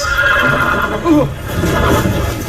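A horse in a Game of Thrones video game whinnies loudly and close, a high quavering neigh over a busy background of movement and murmur.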